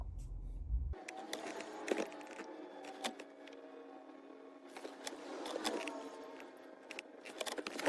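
Car keys jangle and clink close by in a quiet interior, with repeated metallic rattles and small taps scattered across the stretch while a new key is being added, and no one speaks.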